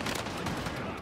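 Shotgun fire in the shooter game Warzone, a dense, loud burst of blasts packed into about a second with no gaps between them.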